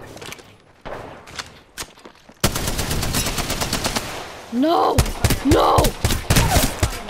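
Rapid automatic gunfire bursts in the Apex Legends battle royale shooter, loud and close, with sparse shots early and then dense sustained volleys, while a player shouts briefly over the firing.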